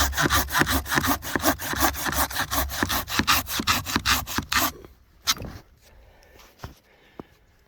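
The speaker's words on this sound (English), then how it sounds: "That Corona saw." A Corona hand saw cuts firewood at a camp in rapid, steady rasping strokes for about five seconds, close and loud, then stops, leaving a few scattered knocks and clunks.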